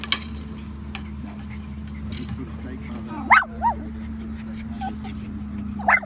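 Dogs bark a few short, sharp times at a rural property, the barks fairly close with one pair near the middle and another near the end, over a constant low engine hum and quiet talk.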